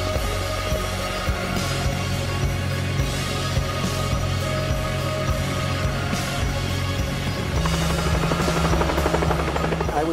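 Steady helicopter rotor and engine drone during flight, loud and continuous throughout, with a low throbbing hum and a slight shift in pitch near the end.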